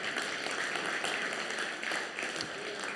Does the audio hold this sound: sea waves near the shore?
no